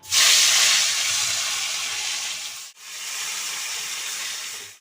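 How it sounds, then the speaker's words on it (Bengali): Loud, steady sizzling of fish hitting hot oil, a broad hiss that dips briefly midway and then continues strongly. "কড়াই তেল দিয়েছি তেলটা গরম হয়ে গেছে মাছগুলো দিয়ে দিচ্ছি"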